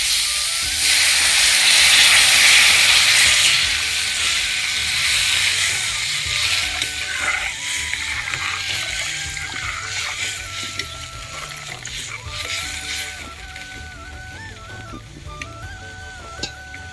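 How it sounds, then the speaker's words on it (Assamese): Water poured into a hot cooking pot of simmering greens and fish, a loud rushing hiss and sizzle at first that gradually settles into a softer bubbling, with no voices. "ইয়াত এতিয়া মই পানী দি দিম।"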